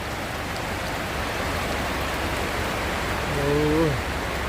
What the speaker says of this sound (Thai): วันนี้บรรยากาศฝนตกครับพี่น้อง